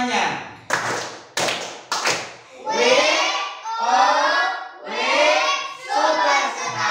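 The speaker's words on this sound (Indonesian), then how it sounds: "Kita beri tepuk tangan untuk temannya." A few sharp, spaced claps ring out in a primary school classroom, followed by a group of children chanting loudly in unison in rhythmic bursts.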